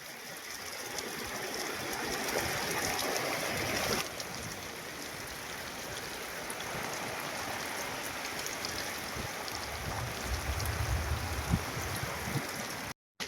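Heavy rain falls outdoors over covered farm stores and crops, a dense, continuous rushing wash that holds steady throughout with a deeper rumble toward the end.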